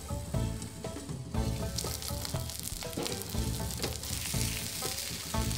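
Salmon fillets sautéing in a covered pan on low heat, a dense crackling sizzle with bursts of popping and a brief lull near the start.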